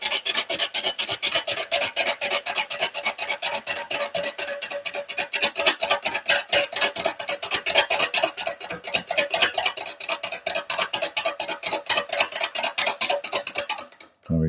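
A bowl gouge cutting live-edge burl wood spinning on a lathe, a fast steady rhythmic rasping chatter, close and continuous, with no talking, cutting off abruptly at the end.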